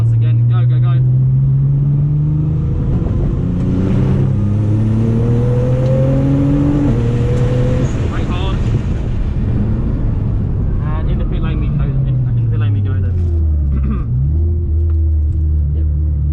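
Onboard a Nissan GT-R on a drift track, the engine roars steadily under load, with rising and falling tones as the throttle is fed through corners, close and loud throughout, while a voice talks over it.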